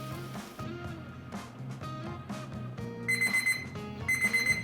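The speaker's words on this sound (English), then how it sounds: "it's time to set the timer." A kitchen timer alarm, set while food cooks on a Weber grill, rings in two short bright bursts of rapid beeping near the end, rising over a softer busy background with no talk.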